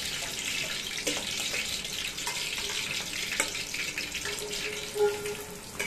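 Soaked sabudana (tapioca pearls) fry in hot oil for sabudana khichdi, giving a steady, fairly loud hiss and crackle with a few small pops and clinks.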